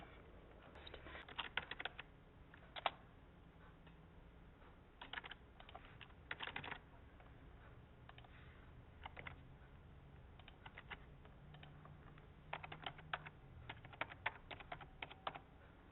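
Fingers tap out an email address on a computer keyboard, soft key clicks coming in quick bursts with short pauses between them, close and fairly quiet.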